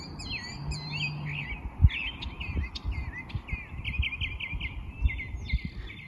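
A mockingbird sings outdoors in a long run of quick, varied chirps and whistled phrases, moderately near, over a low background rumble with a few soft thumps.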